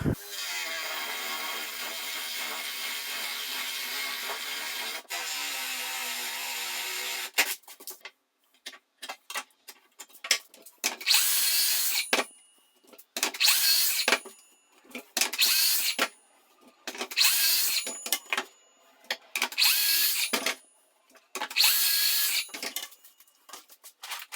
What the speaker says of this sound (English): I'm going to take a 35mm Forstner bit, drill down my hole